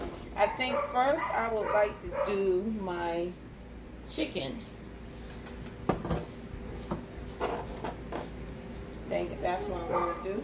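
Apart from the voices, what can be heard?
dog barking outside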